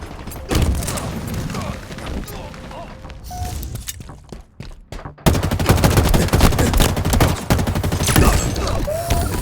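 Rapid bursts of M40 assault rifle fire in Halo Infinite rattle out in dense, loud fusillades, pausing briefly before resuming heavier, with game announcer voice lines and effects mixed in.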